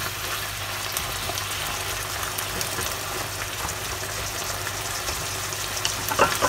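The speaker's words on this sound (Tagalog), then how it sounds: "Haluin po natin ng mabuti para lumasa po yung bawang sa karne." Beef and garlic sizzle steadily in a pan while being stirred for bistek Tagalog, a dense, even frying hiss with faint scraping that swells slightly at the very end.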